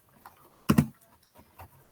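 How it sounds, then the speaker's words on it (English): Keystrokes on a computer keyboard, a short burst of close, fairly loud clicks in the middle with a few softer taps before and after, no talk. "I hope you can see I'm typing"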